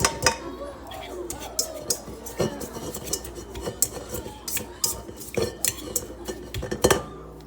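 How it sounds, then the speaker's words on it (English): A whisk beating melted butter into a stiffening no-bake keto dessert mixture in a bowl, sharp rhythmic clinks and scrapes of metal against the bowl repeating close up over a quieter background. "Whisk it all together."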